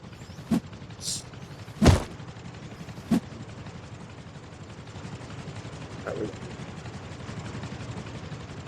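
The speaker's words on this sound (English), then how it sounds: "Alright, so helicopters in the sky, I recommend you hide." A low, steady military helicopter rotor drone in the video game Rust hums in the distance throughout, punctuated by a few sharp gunshot-like cracks and thumps.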